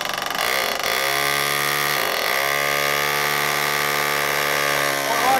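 Power drill grinding steadily into a household toilet bowl in a Japanese home, a loud continuous whine with slight pitch shifts and brief dips near one and two seconds, running unbroken to the end.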